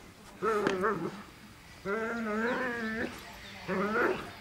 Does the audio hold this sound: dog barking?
yes